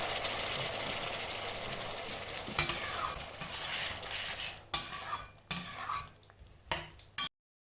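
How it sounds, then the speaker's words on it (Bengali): Tomatoes and onions sauté with turmeric and salt in a pan, a constant sizzle broken by several sharp spoon scrapes and clanks against the pan before the sound cuts off abruptly. "ভালোভাবে নাড়াচাড়া করে ভালো করে টমেটো পেঁয়াজ এগুলোকে কষিয়ে নেব"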